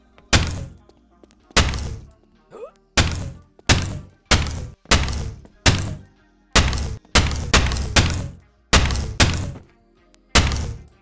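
Cardboard boxes are set down by hand in the VR game Boneworks, a series of about fifteen hollow thunks at irregular intervals, each sharp and close with a short decay.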